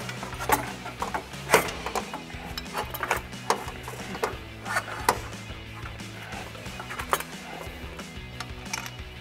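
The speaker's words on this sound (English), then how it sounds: "I'm going to raise that up to where it sits and thread in a couple bolts." Bolts are threaded by hand into a transmission mount under a Ford Bronco, giving quiet irregular metallic clicks and ratcheting taps close by against a low background hum.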